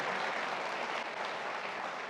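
Audience applause at a fan meet celebrating the film Rockstar, a steady, dense wash of clapping from many hands, sustained and even throughout, with no speech standing out.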